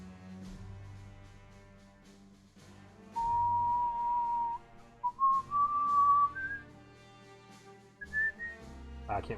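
A person whistles a high-pitched tune alone, holding a steady note that then steps upward through several pitches, with short pauses between phrases and faint background noise.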